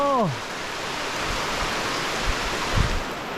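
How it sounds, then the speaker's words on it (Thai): Heavy rain pours over a forest camp by a waterfall stream, an even, hissing wash that carries on unbroken after a brief voice at the very start, with a few soft thuds near the end. "ฝนตกหนักเลย"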